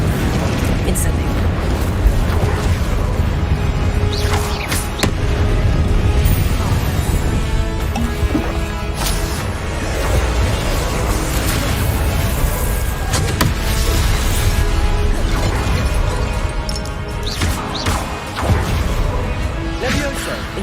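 Confringo and Incendio spell blasts in Hogwarts Legacy, loud bursts and crashing booms over a constant rumble of battle sound, with game audio dense throughout.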